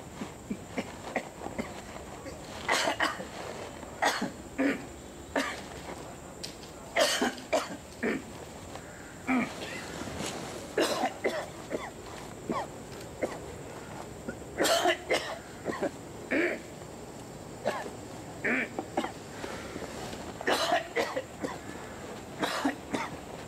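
Repeated harsh coughs in short bursts, spread irregularly throughout, fairly close with quiet gaps between fits.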